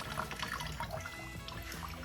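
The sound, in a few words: old rusty water draining out of a table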